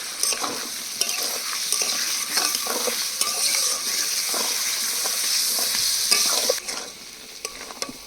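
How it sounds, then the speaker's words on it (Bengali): Potatoes for aloor dum are sautéed with sour yogurt and cashew paste, giving a bright, steady sizzle overlaid with frequent short scraping stirs of a spoon in the pan, close and unvoiced, easing off slightly near the end. "এবার দিয়ে দেবো টক দই কাজু বাদাম বাটা দিয়ে দেবো আরও দু মিনিট কষিয়ে নেব"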